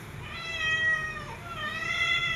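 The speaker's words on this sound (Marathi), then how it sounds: "आवडीची हीच मांजर आहे. काळी." A black cat meows twice, a drawn-out tonal meow followed after a short pause by a second one, fairly close over a low background hum.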